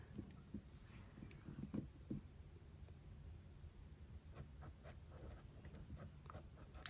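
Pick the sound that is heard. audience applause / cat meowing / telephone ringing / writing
writing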